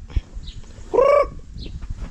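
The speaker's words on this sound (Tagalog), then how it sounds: "Tutukay lang natin yung ating mga alagang manok." Domestic backyard chickens in a rural setting give a single clear cluck-like call mid-stretch, with faint scattered bird calls and light rustling around it.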